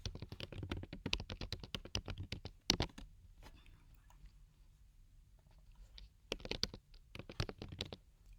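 Rapid bursts of keystrokes on a computer keyboard as a table caption is typed, a quiet close clatter that pauses for a few seconds in the middle before another short flurry.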